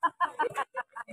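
A chicken clucks in a quick series of short, close, fairly quiet notes, about seven in just over a second, with no talking.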